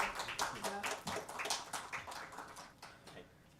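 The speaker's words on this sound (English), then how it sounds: "Can we have a big round of applause for a floral welcome?" Hall audience at a Unani Day event in Vigyan Bhawan, New Delhi, applauding a floral welcome: a dense, even patter of clapping, fairly faint and distant, sustained throughout before thinning slightly near the end.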